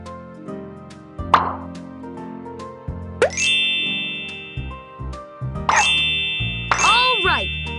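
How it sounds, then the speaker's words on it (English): Cartoonish bubble pops in a PAW Patrol mobile game, several bright plopping dings with rising chirps scattered over a game music loop. "Now tap all the bubbles to pop them."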